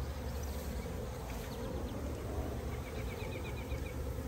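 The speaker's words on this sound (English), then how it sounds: "Those look like bees that have moved in and are making a go of it." A dense, continuous hum of many honey bees buzzing close by at a hive entrance, a newly hived swarm, with individual insects whining past now and then.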